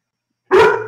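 A dog lets out one short, loud bark, close by, that starts abruptly after silence and trails off quickly.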